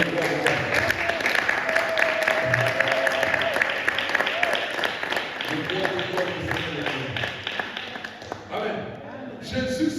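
A church congregation claps steadily through a Sunday service, dense rhythmic applause filling the room while voices carry over it, with the clapping thinning near the end.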